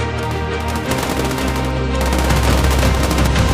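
Rapid, dense bursts of automatic gunfire from soldiers in combat, loud and continuous with sharp overlapping reports throughout.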